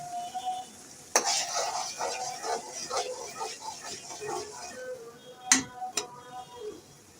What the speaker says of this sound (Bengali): পেঁয়াজ কষানো শেষ, একটু লালচে বাদামি হয়ে আসলে আদা রসুন পেস্ট দিয়ে দিই।